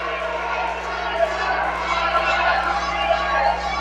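A wrestling crowd in Kingsport roars steadily throughout, a dense wash of cheering and shouting under a steady low hum, with a commentator's voice mixed in.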